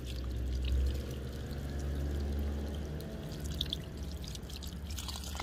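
Ice-cold water pours steadily at close range, a soft continuous trickle with a few scattered drips, heard alone without talk.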